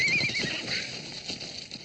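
A horse whinnies loudly and close at the start, the neigh trailing off, followed by a few soft hoof clip-clops.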